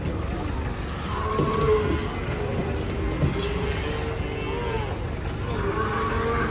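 A sacrificial cow lows several times at middling distance over outdoor noise and a low rumble, with people talking in the background.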